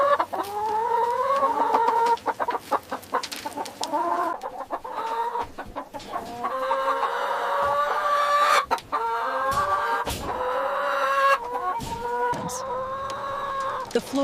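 Leghorn hens in a large egg factory barn cluck and cackle continuously at close range, many birds overlapping with rising calls and a steady low mechanical hum underneath.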